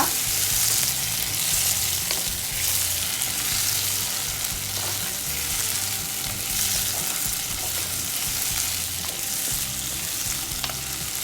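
Brinjal and tomato sizzling in a pan for a Palakkad-style brinjal puli, gently stirred, giving a continuous close crackle and hiss with soft scraping and low knocks throughout, no talking.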